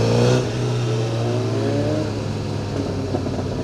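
A 2009 Honda Repsol CBR1000RR sport motorcycle engine accelerating, a loud close-up rising engine whine that climbs in pitch through the gears as the bike pulls away.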